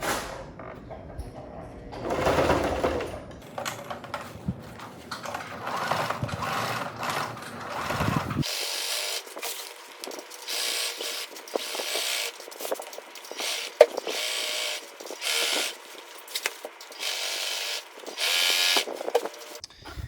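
A sewing machine stitches a heavy vinyl cover for a rooftop tent in steady whirring bursts, close and fairly loud, with brief pauses and clunks as the material is shifted between runs.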